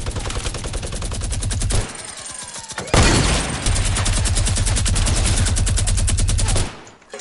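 Relentless video game gunfire rattles in dense automatic bursts, with a short break early on before the rapid firing resumes and carries on loudly, with no voices.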